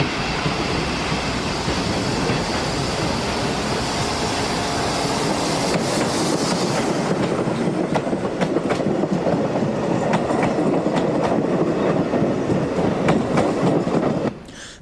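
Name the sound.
French-built 1200 class diesel train, Portugal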